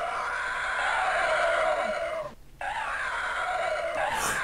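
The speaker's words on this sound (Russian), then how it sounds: "Вот кто это кричал-то! Какой-то скелет сумасшедший!" A crazed skeleton in The Elder Scrolls II: Daggerfall lets out a loud, sustained, wavering scream. It breaks off briefly in the middle, then resumes and rises toward a shrill peak at the end.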